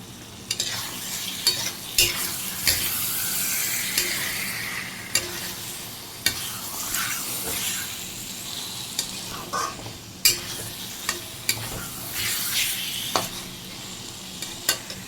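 Potatoes tossed into a ghee-fried spice masala for egg curry sizzle steadily in the pan, with repeated sharp scrapes and clinks of a spatula stirring through the mix, no voices.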